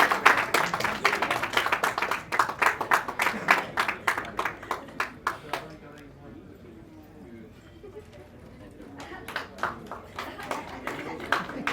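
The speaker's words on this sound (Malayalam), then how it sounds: "ഒരു സ്പെഷ്യൽ ക്ലാപ്പ്" An audience claps at a stage event for a movie success celebration, a dense burst of applause that fades in the middle and then picks up again.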